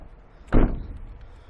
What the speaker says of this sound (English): to get the slide door